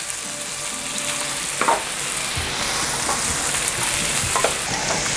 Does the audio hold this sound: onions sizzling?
yes